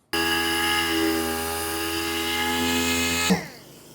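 A power sander feather-edging the paint on a truck body gives a loud, steady, close whine that holds for over three seconds, then spins down abruptly at the end.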